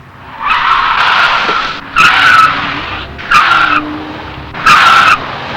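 A 1987 BMW 325i sedan on a driving-school course brakes hard with the front tires locking, giving four loud, close tire squeals and skids, each about a second long and separated by short pauses.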